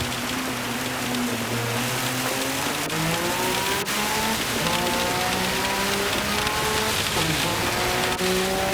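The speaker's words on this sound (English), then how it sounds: "Sounds like it's still raining out there." Steady rain hisses over engines droning and shifting pitch as race cars pass and accelerate in Gran Turismo 7 during a wet endurance race, a dense continuous wash of noise.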